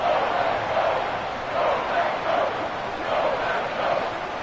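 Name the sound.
stadium crowd cheering in video game Madden 25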